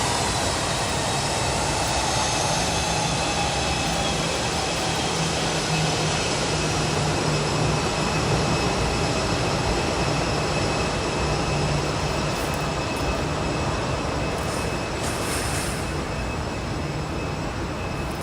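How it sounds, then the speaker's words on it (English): A Southwest Boeing 737 airliner taxies at Boise airport, its jet engines producing a loud, steady whine and roar that holds evenly throughout, close by and with no talk. "I believe that Southwest 737 is sadly heading over to the other side of the terminal"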